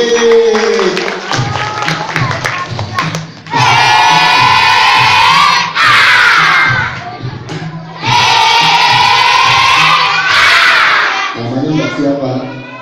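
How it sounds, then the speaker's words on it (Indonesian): Children in a storytelling session clap and cheer in bursts, a loud, close group of young voices shouting and applauding together, with an adult voice heard between bursts. "Tepuk tangan teman-teman."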